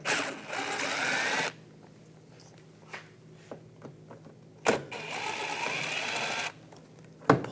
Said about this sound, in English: taking these screws out up top, use a T15 socket